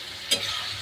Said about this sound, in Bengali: বিরিয়ানির জন্য মটনটা কষাচ্ছি।